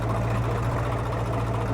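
A well-kept 855 tractor engine idles close by, a steady low, throbbing drone with an even mechanical pulse and no voices.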